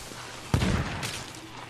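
Ship cannons fire in the pirate game Sea of Thieves, one heavy boom landing amid a noisy, rumbling mix of surrounding game sounds.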